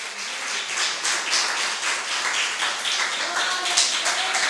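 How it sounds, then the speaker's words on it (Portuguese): A church congregation at a family worship service applauds with dense, sustained clapping throughout, mixed with raised voices and cheering. "Aplauda esse Deus maravilhoso."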